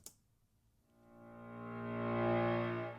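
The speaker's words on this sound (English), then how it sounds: "which is just the live low hit with reverb on it," A reversed low hit drenched in reverb swells gradually from near silence into a dense, sustained tonal rumble, peaking loudly just before the end after a brief faint click at the very start.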